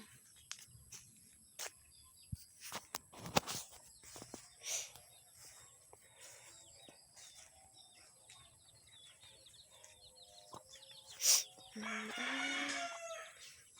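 A rooster crows outdoors in a backyard amid scattered clucks and rustling, with birds chirping faintly in the background.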